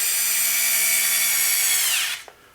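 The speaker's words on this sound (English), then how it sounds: "I might actually drill a hole in that." A power drill whirs at a high steady pitch for about two seconds while drilling a hole in a remote control car chassis, then winds down and stops, close up.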